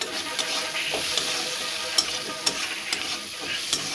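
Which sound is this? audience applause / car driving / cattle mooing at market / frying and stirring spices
frying and stirring spices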